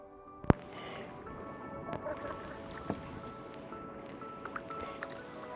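Paddle strokes pushing water on the left side of a small boat, with one sharp close splash early on, then several softer strokes over a steady background hum.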